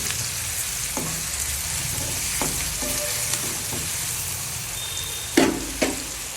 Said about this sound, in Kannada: ಹಾಕಿ ಇದು ಸ್ವಲ್ಪ ಹಸಿ ವಾಸನೆ ಹೋಗೋವರೆಗೂ ಇದನ್ನು ಸ್ವಲ್ಪ ಫ್ರೈ ಮಾಡಿ